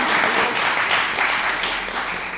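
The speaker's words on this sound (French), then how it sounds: "On peut les applaudir quand même bien fort." A theatre audience applauds volunteers on stage at a mentalist mind-reading show, steady dense clapping filling the room throughout with a faint voice underneath.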